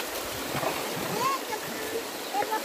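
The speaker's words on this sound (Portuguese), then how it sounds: "Olha o Sheldon pulando na água" Water splashes and burbles in a stream as a dog jumps in, the rushing flow steady and close with a few brighter splashes, and faint voices in the background.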